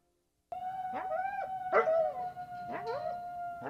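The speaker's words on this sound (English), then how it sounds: "you can sometimes hear the yips and howls of coyotes in Illinois' rural and suburban areas" Coyotes in rural Illinois yip and howl in a close, loud chorus, rising wavering howls broken by several sharp yips, heard alone with no talk.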